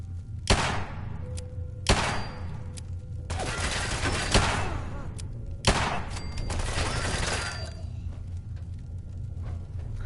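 Heavy gunfire bursts in Fallout 4, several loud sustained volleys of rapid shots with sharp impacts and ringing echoes, separated by brief pauses.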